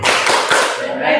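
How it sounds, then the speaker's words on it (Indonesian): A group performs a short rhythmic clap routine called 'tepuk keren' in a school workshop setting, a brief burst of close, loud hand claps. "Kita tepuk keren dulu ya"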